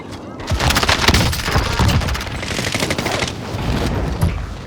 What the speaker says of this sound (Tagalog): Nagbabarilan na sila.